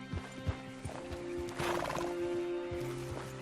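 Horses in the Red Dead Redemption 2 video game clip-clop along in an uneven rhythm, hooves thudding close by, with a horse snorting and whinnying midway over low background tones.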